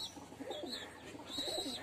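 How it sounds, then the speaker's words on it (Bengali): Pigeons cooing in a loft, soft low throaty coos repeating a couple of times against a quiet room background with no talking. "তো আপনারা তো দেখতেই পাচ্ছেন আমার এখানে কবুতর অনেকগুলো আছে"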